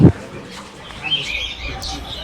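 A few thin, high bird chirps sound briefly among indoor background noise in a bird and aquarium fish shop in Joydebpur, Gazipur, scattered and not very loud.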